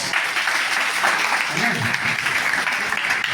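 Audience applause fills an orientation session hall in Pusa, Samastipur, Bihar, a steady dense clapping sustained for a few seconds after a recited couplet, with faint voices mixed in.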